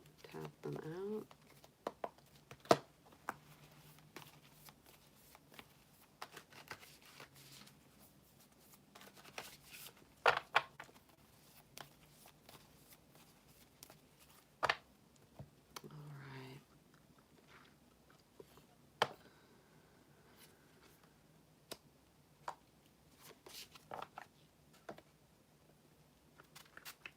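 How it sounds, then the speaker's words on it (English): Tarot cards being shuffled and tapped into a neat stack, soft papery riffles and light scattered taps, faint and close, with occasional quiet sounds in between. "Let's shuffle these out, tap them out."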